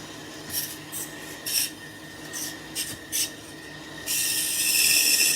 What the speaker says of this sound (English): With this small blade, you're able to make these turns which you couldn't normally do with a regular bandsaw blade